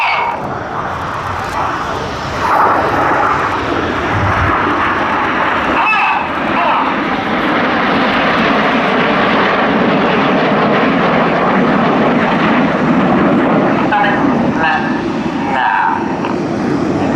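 Aircraft of the Synchro pair roar past at an air show, a loud sustained engine rush rising and fading, while a commentator speaks over the public address.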